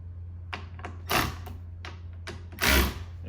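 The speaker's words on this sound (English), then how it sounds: "so we're gonna tighten those bolts up" Tightening 8mm bolts on a BMW M2 front splitter: a few short, close clicking ratchet-like bursts and two louder rasping pulls over a steady low hum, with no talking.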